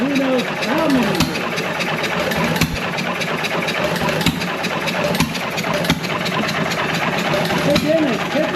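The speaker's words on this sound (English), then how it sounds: "the engine is hitting and missing and running for the first time in who knows how many years" A John Deere 1.5 hp gas engine, running for the first time in years, runs roughly nearby, hitting and missing, sputtering and popping unevenly, with occasional talking over the rumble.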